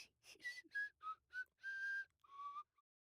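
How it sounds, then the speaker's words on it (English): A character in a Family Guy cartoon whistles a soft lullaby, a series of short, close melodic notes heard alone. "He begins whistling a lullaby to make the teen fall asleep"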